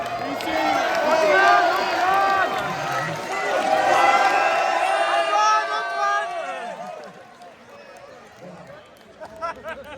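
Festival crowd at a late-night fantasy film festival event in Gérardmer applauds and cheers loudly for several seconds, a dense sustained wash with voices mixed in, then fading toward the end.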